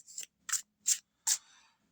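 Four short, crisp slaps or snaps of cards laid out on a table, spaced about a third of a second apart, close by and alone, the last one trailing off with a soft slide.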